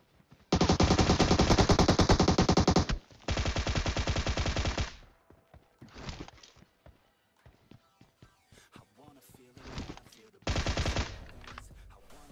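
Automatic rifle fire in the mobile game PUBG Mobile rips out in long sustained bursts, then shorter volleys and scattered single shots, loud and close in the foreground with faint movement sounds between bursts.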